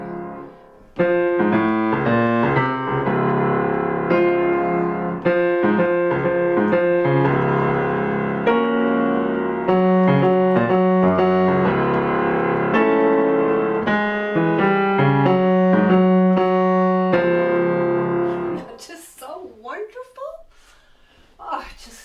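Solo piano plays Rachmaninoff's Prelude Op. 32 No. 13, a fast rocking bass pattern under full chords, loud and sustained for about eighteen seconds, then the playing stops and a few brief rustles follow.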